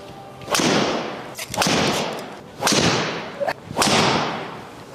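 Swings of a Mizuno golf driver, each followed by a sharp whooshing rush of air, four in quick succession and loud up close, with no clear impact crack on the Mizuno RB Tour X ball.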